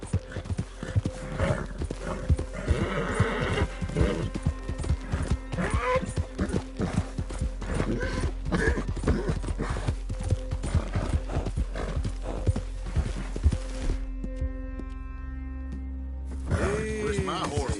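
Horse hooves clip-clop in a quick, steady rhythm close by, and a loud neigh breaks out near the end.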